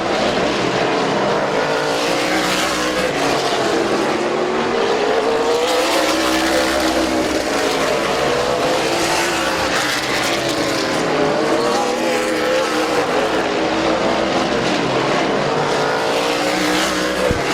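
Race cars roaring around Midvale Speedway, a loud continuous engine drone with rising and falling passes as the pack laps the oval, close and unbroken throughout.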